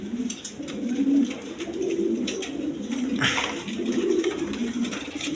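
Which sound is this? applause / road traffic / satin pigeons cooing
satin pigeons cooing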